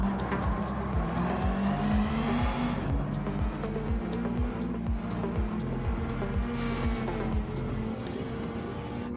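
A race car in the Gran Turismo video game drives at speed, its engine droning loudly and continuously as the revs climb and drop through repeated gear shifts, with no voices.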